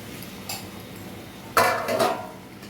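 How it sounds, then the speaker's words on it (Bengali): Spiced chicken gets stirred in a cooking pot, a quiet tap early on followed by a louder burst of scraping and clinking of spoon against metal lasting about a second. "ভালো করে এটা ততক্ষণ মিক্স করে নিচ্ছি।"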